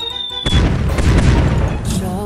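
A magic staff in the Mini World video game lets off a firework: a sudden loud boom that rolls on as a dense crackling burst, following a brief tonal game sound.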